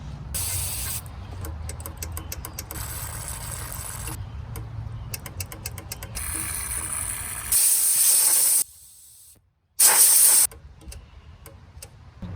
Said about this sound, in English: I'm gonna hit it with some brake clean, some air, little PB blaster